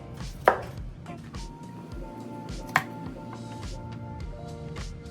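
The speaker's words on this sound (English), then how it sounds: "Now we can cut them into halves." A knife cuts vegetables into halves for kebabs on a cutting board, giving two sharp, close chops about two seconds apart over a low, steady kitchen background.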